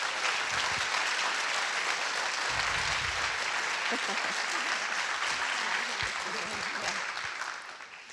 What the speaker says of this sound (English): let us applaud Marcia for her achievement.